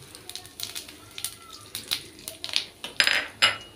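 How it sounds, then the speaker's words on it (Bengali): Garam masala, cumin and bay leaf dropped into hot oil in the same pan used for fried potatoes, giving quick clicks and clatter of utensils and a short sizzling burst near the end, close and moderately quiet. "এই একই তেলের মধ্যে আমি দিয়ে দেব একে একে এই গরম মশলা, জিরে আর তেজপাতাটা"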